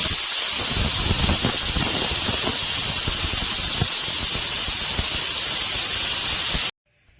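A pressure cooker of mutton on a medium flame vents a loud, continuous hiss of steam that holds steady for several seconds before cutting off abruptly.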